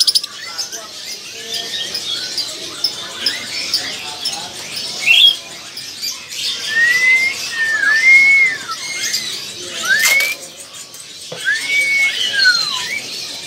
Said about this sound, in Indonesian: Ini burungnya baru dibuka kerodongnya, jadi masih kaget.